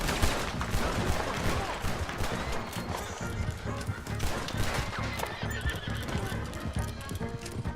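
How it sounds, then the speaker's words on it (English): Galloping horses in the video game Red Dead Redemption 2, with rapid hoofbeats close by, repeated neighs and whinnies, and gunfire crackling in the background throughout. "Persecución de caballitos"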